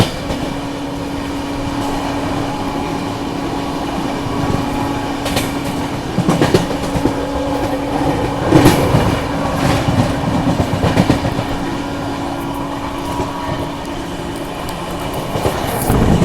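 The Prayagraj Humsafar Express runs at speed near Aligarh while overtaking another train, heard from on board as a loud, steady rumble of coaches on rails with rhythmic wheel clatter and occasional sharper knocks.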